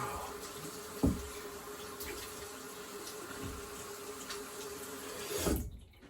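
Cold water runs from a tap to rinse a razor, a soft steady trickle with a knock near the start and a louder splash before it cuts off.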